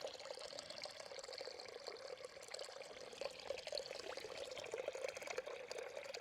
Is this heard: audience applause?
no